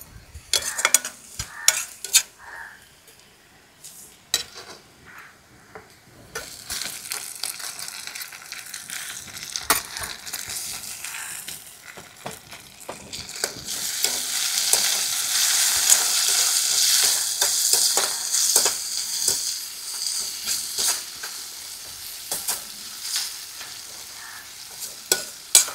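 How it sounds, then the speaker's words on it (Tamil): Onions and tomatoes fry in a pan while a spoon scrapes and stirs in irregular bursts, the sizzle swelling louder midway and continuing under sharp clinks of metal against the pan. "நல்லா வெங்காயம் நல்லா வதங்கிடுச்சு. இப்போ தக்காளியை போட்டுருவோம்."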